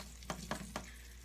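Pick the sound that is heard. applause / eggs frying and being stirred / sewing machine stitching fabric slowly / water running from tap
eggs frying and being stirred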